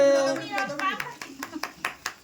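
Family members clap at a home wedding anniversary celebration, a handful of sharp claps in an uneven rhythm, close by, following a few moments of excited talking.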